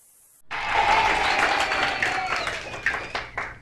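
Studio audience at a television monster movie quiz show bursts into loud, sustained applause after a brief quiet start, the dense clapping holding steady and then tapering into scattered claps near the end.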